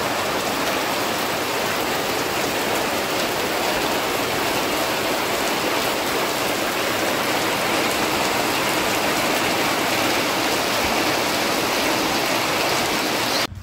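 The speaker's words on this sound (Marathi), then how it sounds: "कोकणात बघा किती मुसळधार पाऊस पडता" Heavy monsoon-style downpour in Konkan during December, a dense, steady roar of rain on surfaces, loud and close, continuous throughout with no talk.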